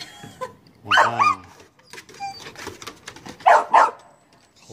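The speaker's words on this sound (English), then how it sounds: "I finally got her to bark, too." A dog barks and yips in a few sharp, loud bursts while playing with a new ball, with short gaps and soft whimpers between the barks.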